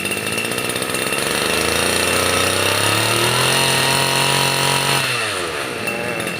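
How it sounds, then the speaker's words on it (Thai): A used Japanese Tanaka CB20HT two-stroke brush cutter engine revs up loud and buzzy, holding a high whine for a few seconds before dropping back to a rough idle. "ด้วยเอาเร่งเครื่องดู ฟัง เสียง ท่อ ใส ๆ เลย"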